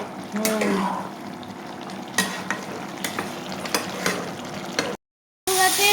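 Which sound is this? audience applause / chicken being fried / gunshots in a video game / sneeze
chicken being fried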